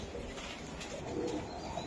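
Racing pigeons give soft, low cooing in a short, muffled burst against a steady background murmur.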